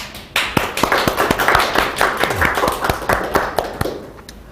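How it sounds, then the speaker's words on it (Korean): A congregation at a seminary closing worship service claps together, a brisk run of sharp, fairly loud hand claps in quick succession that fades out toward the end. "하나님께 영광의 박수 한번 올려드리겠습니다"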